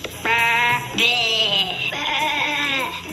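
A voice imitates a sheep, giving three drawn-out wavering bleats in quick succession, loud and close.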